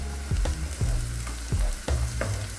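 Onions with pepper powder sizzle and fry in a pan for an egg keema masala, steady crackling broken by several rhythmic scraping stirs, close and moderately loud.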